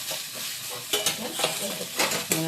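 Green mung dal filling with fresh chopped coriander being stirred in a pan: scraping stirs over a soft sizzle, with sharper clattering bursts around a second and two seconds in.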